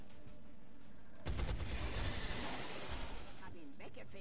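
A gunner soldier firing on an enemy in an XCOM game: a sudden loud burst of gunfire kicks in after a quiet moment and rattles on for about two seconds before fading.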